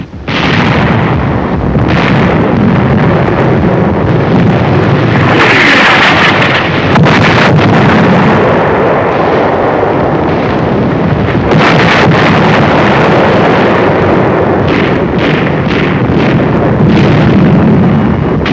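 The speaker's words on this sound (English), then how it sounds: "A direct hit on an enemy 88mm gun position." Distant artillery shell bursting on an enemy 88mm gun position on the North African front, heard as a dull rumbling blast amid continuous wind buffeting and battlefield noise, with several further thuds and bursts scattered through the stretch.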